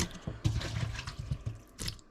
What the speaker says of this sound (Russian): Пускай она постоит для того, чтобы стекла вода.